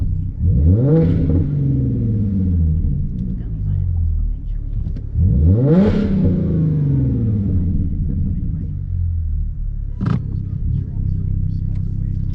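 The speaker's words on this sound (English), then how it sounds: "I'm revving it." A V6 Ford Mustang engine revs hard twice in traffic in long rising-and-falling sweeps, with a short sharp blip near the end, loud and close by.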